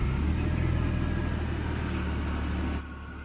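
A Maruti Omni van's engine runs near and loud in a steady, even mid-pitched hum, dropping slightly quieter toward the end as it settles into an idle; no talking.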